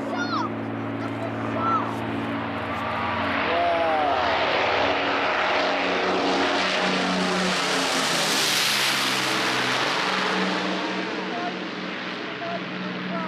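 Piston engines of a World War II Lancaster bomber roaring during takeoff, a deep droning rumble that swells as the aircraft passes and fades off, with people talking and cheering underneath.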